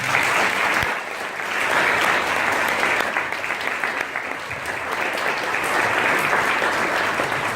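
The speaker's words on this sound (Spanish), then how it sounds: "Le damos un aplauso al Señor." A church congregation claps together in sustained, even applause, a dense wash of many hands held at a steady level for several seconds with no voices rising above it.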